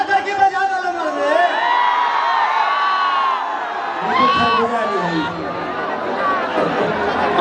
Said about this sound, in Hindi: एक जोरदार तालियां बजा के स्वागत करें, जोरदार तालियां बज जाए आप सबके बीच